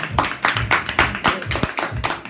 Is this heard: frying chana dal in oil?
no